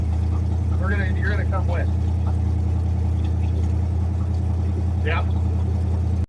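A car engine idling while it warms up after fresh gas, a steady low rumble running throughout, with people talking briefly over it near the start and end.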